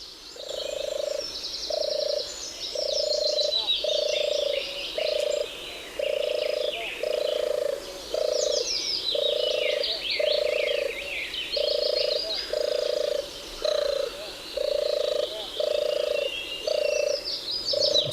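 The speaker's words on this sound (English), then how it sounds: "So that's the turtledove playing there." A recorded turtle dove song plays back with repeated purring coos in an even rhythm, one after another at moderate loudness, with faint chirps from other birds behind them.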